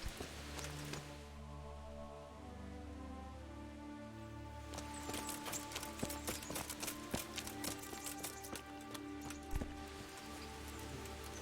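A horse in Kingdom Come: Deliverance trots along with rhythmic clip-clopping hooves, starting after a few quiet seconds and continuing under a sustained musical drone.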